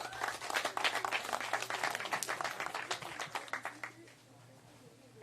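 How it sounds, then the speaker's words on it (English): An audience applauds the SMU team at the 2017 American Athletic Conference Women's Golf Championship: brisk clapping from a modest crowd, fairly distinct individual claps that thin out and fade near the end, with a steady hum underneath. "Let's give another round of applause for SMU."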